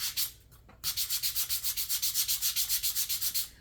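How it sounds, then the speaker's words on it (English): Hand sanding with fine 320-grit sandpaper while making risers for tiered trays: about twenty quick, even back-and-forth strokes, close and fairly loud, following a brief rub and a short pause at the start. "But this is 320 grit sandpaper."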